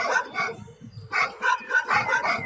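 Several dogs of another breed bark in quick bursts in an animated Hindi story, close and loud, with a short pause before a rapid run of yaps.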